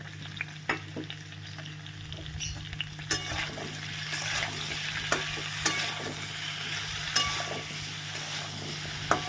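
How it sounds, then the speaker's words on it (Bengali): Vegetables fry in a pan as salt and turmeric go in, a quiet continuous sizzle broken by sharp scrapes and clinks of the stirring spoon against the pan at irregular intervals. "এটা একটু হতে থাকুক, তার মধ্যে আমি এটা ঘুরিয়ে নিয়ে আসি। দেখো দিয়ে দিচ্ছি একটু নুন আর একটু হলুদ।"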